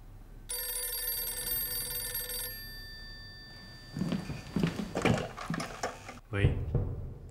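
An old telephone rings with a bright, sustained electric bell for about two seconds, then voices talk over soft rustling and a brief clunk.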